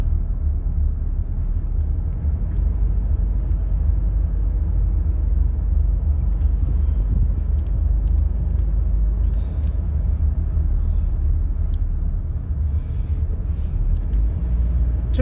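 Heavy construction trucks moving in convoy on the A1 motorway, heard as a steady, loud low-frequency road rumble with continuous engine drone throughout.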